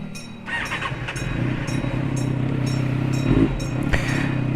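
A Kawasaki ZX636 sport bike fitted with a Nassert Beet Evo 2 exhaust is ridden, its engine droning and rising in pitch, with brief sharper blips from the exhaust.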